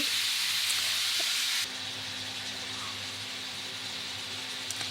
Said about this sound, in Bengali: ব্রাউন কালার ভাজা হয়ে গেছে, টমেটোগুলো দিয়ে দিলাম। Half KG tomato.